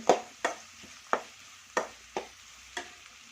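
Onions salted and frying in a pan for egg rice, with about six sharp spatula scrapes and stirs spaced across the clip over a faint, low sizzle.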